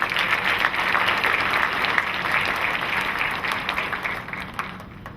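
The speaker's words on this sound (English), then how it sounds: "Let's give all these classified retirees another round of applause." An audience gives a round of applause for classified school retirees at a district staff and student awards ceremony, with dense sustained clapping filling the hall for several seconds before easing slightly toward the end.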